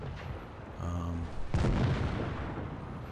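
A tank cannon fires in World of Tanks Blitz during a clan wars final match: one loud, sharp boom with a broad low-end blast that rings out and decays over the following second, set against steady game ambience.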